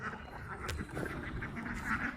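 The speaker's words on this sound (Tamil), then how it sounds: "இதுதான் வாத்து பண்ணை." Ducks at a duck farm give scattered quacks and honks, a flock calling at moderate distance over low background noise.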